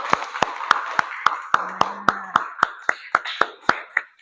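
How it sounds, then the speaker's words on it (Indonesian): Students in a classroom clap together in a steady, evenly spaced rhythm of about fifteen sharp claps, close and distinct, with a faint voice briefly underneath. "Beri tepuk tangan dulu yuk untuk Mbak Dwi."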